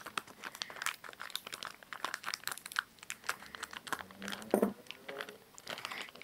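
Plastic and paper packaging crinkles and tears as a My Little Pony toy is unwrapped, with dense, close crackling rustles running continuously and a few louder snaps.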